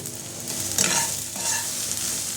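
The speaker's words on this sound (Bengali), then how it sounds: "এটা আমি ভালো করে নেড়ে নেব।" Vada pav potato filling stirred as it fries in a pan, a close sizzle with two or three scraping spatula strokes across the surface in a brief stretch, no talk.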